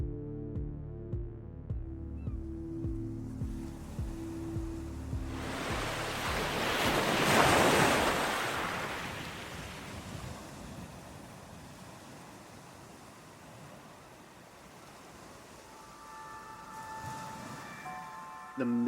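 A ship sails at full speed across open ocean, waves surging into a loud rushing swell at the midpoint before easing back, with a throbbing low pulse and musical tones underneath.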